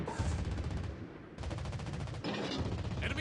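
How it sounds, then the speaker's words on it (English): Anti-aircraft guns on a USN cruiser in World of Warships Blitz fire in rapid, sustained automatic bursts, loud and close, with a short pause between volleys. "Anti-aircraft gun on full alert."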